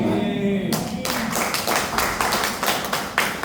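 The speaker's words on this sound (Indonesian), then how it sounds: "Tepuk tangan." A church congregation at a Sunday service breaks into applause, starting as scattered claps and building into quick, fairly regular clapping. Voices carry faintly underneath.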